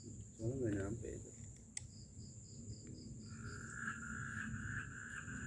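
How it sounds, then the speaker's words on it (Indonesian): Frogs and insects trill in a steady chorus at night outdoors, fairly faint and continuous, while a person talks nearby at first and a sharp click sounds partway through. "Ada suara kodok."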